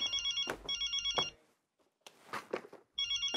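A telephone rings with a bright electronic trill during a comedy scene, repeating in short bursts with a brief silence in the middle, clear and near, with only faint rustles between rings.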